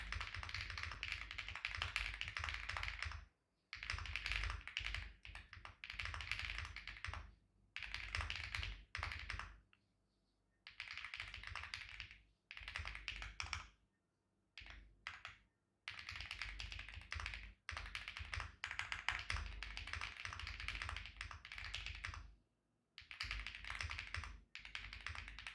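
Rapid tapping on a computer keyboard, close and quiet, comes in bursts of several seconds broken by short silent pauses, with no voices.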